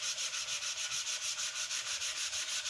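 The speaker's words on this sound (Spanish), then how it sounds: "Con esta lija de agua le acabo de colocar 400." A marquetry wood panel is hand-sanded with fine 400-grit wet sandpaper, producing close, rhythmic back-and-forth rasping strokes at a steady pace with no pauses.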